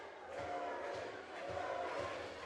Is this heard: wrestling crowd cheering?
yes